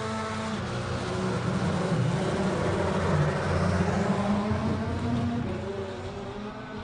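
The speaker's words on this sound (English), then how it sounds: "Volk is on the way in that A1 GP Ferrari." An A1 GP Ferrari race car climbs the course at the Simola Hillclimb King of the Hill 2021, its engine a loud, steady, close roar with rising harmonic tones that swell midway and ease slightly at the end; a single word is spoken briefly.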